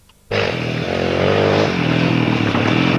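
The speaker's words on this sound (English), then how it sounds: "Paul Miles on the Kawasaki in the Basket Weavers team." A Kawasaki rally motorcycle tears along a special stage of the 2002 Cambrian Rally, its engine bursting in loud and close, then holding a steady, rising howl as it accelerates past.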